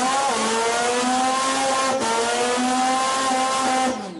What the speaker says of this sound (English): Burnouts